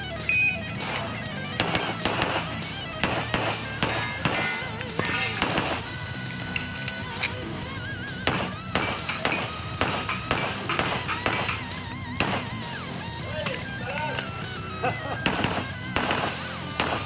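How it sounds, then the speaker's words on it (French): Pistol and rifle shots at an indoor shooting club in Rivière-du-Loup, sharp reports arriving irregularly and repeatedly over a steady room din, with people talking in the background. "On va vous regarder tirer tantôt, puis je vais peut-être avoir la chance de l'essayer."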